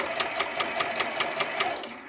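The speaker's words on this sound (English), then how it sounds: "the faster you push on your foot pedal, the faster you sew" A sewing machine driven by a foot pedal stitches at a steady, fast, even rhythm, close up and continuous.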